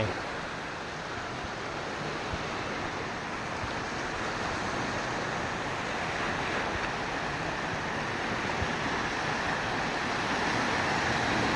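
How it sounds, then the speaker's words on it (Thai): Steady ocean surf rolls in at the beach on an evening, with a continuous broadband wash of breaking waves and some wind buffeting the microphone throughout, with no talking. "ดูคลื่นนะน่าเล่นมากนะครับคลื่นวันนี้ คลื่นดีวันนี้คลื่นดีน่าเล่นมาก"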